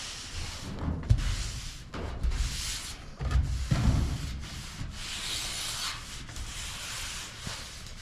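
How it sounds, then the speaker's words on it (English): Wax is rubbed onto a van by hand, giving close, continuous scrubbing and swishing strokes in uneven back-and-forth bursts with no speech. "Wax on, wax off, Daniel son."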